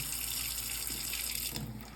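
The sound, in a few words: tap water turned on to clean Kangen K8 machine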